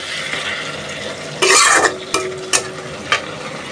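Hilsa fish and Malabar spinach (pui shak) curry being stirred in a frying pan as it comes off the heat, with a soft sizzle and a burst of scraping and clattering utensil strokes in the middle, then a few short knocks.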